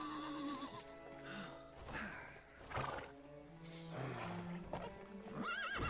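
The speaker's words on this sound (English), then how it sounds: "Quality horses." Several horses whinny and neigh over the clatter of hooves in Lego The Hobbit, with a low rumbling roar and layered game-like ambience throughout.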